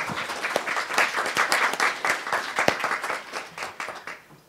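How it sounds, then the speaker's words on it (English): After a career panel on entrepreneurship, a room of attendees gives moderately quiet applause, a crisp patter of claps that fades out at the close. "Let's give our panelists a big round of applause"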